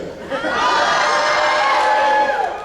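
A convention panel audience cheers and shouts a greeting, a swelling crowd roar with whoops that rises quickly, holds loud for a couple of seconds, then eases off.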